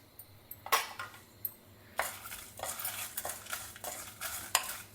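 Coriander seeds, chana dal and dry red chilies roasting in oil, with a spoon stirring and scraping the pan in repeated close strokes over a faint sizzle.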